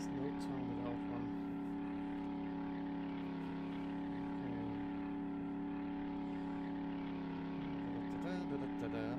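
Vehicle engine droning steadily while driving through the desert in the survival video game 7 Days to Die, a continuous tonal hum held at constant pitch for the whole stretch.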